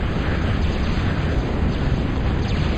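Continuous loud rumbling blasts and gunfire from a video game as bombers are shot down, a dense, steady roar with no clear pauses throughout.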